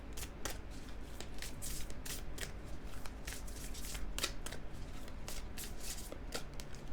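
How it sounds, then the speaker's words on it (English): Oracle cards being shuffled by hand, a steady riffling and sliding of card stock with crisp snaps of cards as they are drawn, close and continuous with no talking. "Let's draw you a Color Goddess casting card."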